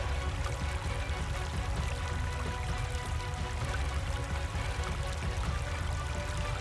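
Steady rushing flow of river water on the Reedy River, a continuous broadband wash with no speech, moderately loud and close throughout.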